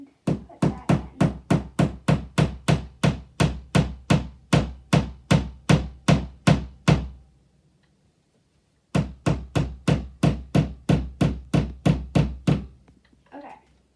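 A hammer strikes in a steady, rapid series of sharp knocks, about twenty blows, then pauses for two seconds before another run of about a dozen blows. The blows are close, loud and evenly spaced, with no talk.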